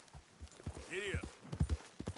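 A horse's hooves clip-clop in Red Dead Redemption 2, a quick uneven run of close thuds as the ride sets off. A voice speaks over the start, and a brief whinny rises in the middle.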